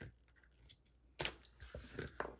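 Paper or cardstock being cut with scissors for a handmade candy box: a few short crisp snips and rustles, close and fairly quiet, with no talking.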